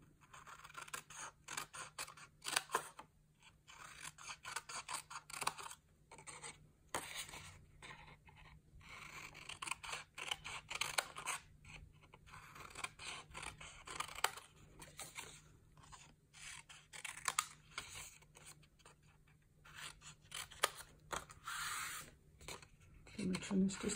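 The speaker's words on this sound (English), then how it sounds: "Trim this just a little bit." Scissors trim cardstock edges while assembling a Stampin' Up! four-in-one gift box, giving quiet, rapid snips and paper scrapes in irregular bursts close to the microphone, with occasional faint handling noise.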